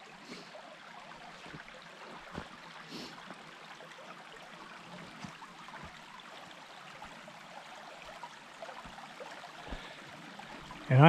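Water flows steadily along Prather Run, a creek at an old sawmill site, making a faint, even rush of broadband noise with small splashy ticks and no voices.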